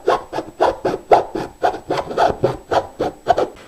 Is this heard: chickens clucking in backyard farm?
no